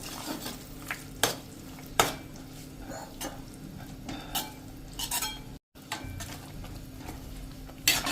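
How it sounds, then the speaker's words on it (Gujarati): A spoon stirs a thickening soya manchurian gravy in a pan over a full flame, with repeated scrapes and clinks against the metal over a low sizzle and a brief gap partway through. "હવે આપણે આ લિક્વિડ આવી રીતે ગ્રેવીને થીક કરવા માટે નાખી દેશું અને હલાવતા જઈશું"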